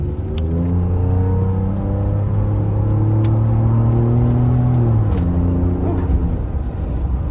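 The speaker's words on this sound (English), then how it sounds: "I might give y'all one more little quick acceleration right here" An upgraded Ford F150 truck accelerating hard, its engine rising in a loud close drone through the gear, then a shift and renewed climb, with no talking.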